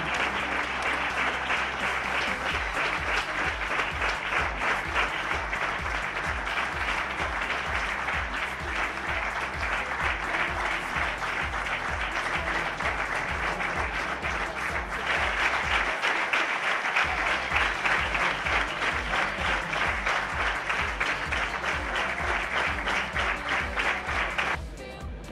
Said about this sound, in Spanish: recibamos con el fuerte aplauso que le corresponde por su trayectoria, por su vida, a Pepe Pascual.